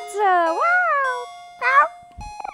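A cartoonish cat meows in the video game OMORI, two clear rising-and-falling meows close and loud, followed by a short chirp and a few soft clicks and jingles.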